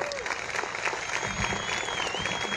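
Church congregation clapping for the Lord at a gathering in Cantel, Guatemala, a steady crowd patter with a sustained tone and faint voices underneath.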